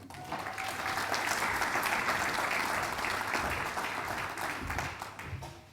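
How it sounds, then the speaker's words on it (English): At a Hall of Fame induction ceremony, an audience gives Rick Bentley a round of applause: steady, moderately loud clapping from many people that holds evenly for several seconds. "Let's give Rick a round of applause."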